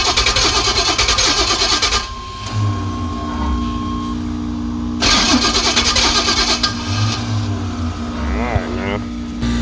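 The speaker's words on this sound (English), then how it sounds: "we probably ain't gonna get but a few starts before this daggone starter goes acting up again" A 383 engine in a Chevy C10 pickup with a failing starter cranks loudly, catches and runs, then cranks again and roars back up, close and loud with someone talking over parts of it.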